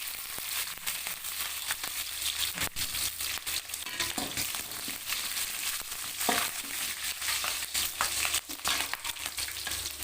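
Curry leaves and dried red chillies crackle and spit in hot oil, a dense, steady sizzle with sharp pops scattered throughout, close and loud, with no voices.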